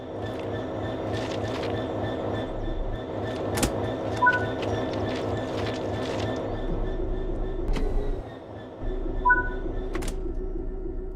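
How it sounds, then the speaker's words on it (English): A locomotive in Train Sim World 4 rumbles steadily with a low rhythmic engine throb as it backs up to couple onto wagons, with a faint short hiss and a clank partway through. "Now let's head into the locomotive and couple to the wagons."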